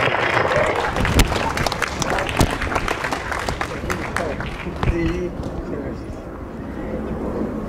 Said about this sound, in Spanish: Recíbalo con un fuerte aplauso